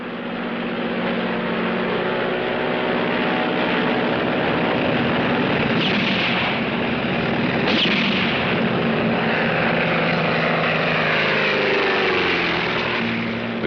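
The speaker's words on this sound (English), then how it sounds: "as we touch down, we catch a glimpse of them being kicked along by the rebels" A propeller airplane on a runway touches down and then pulls back up, its engine droning loudly and continuously with a rising, straining tone toward the end.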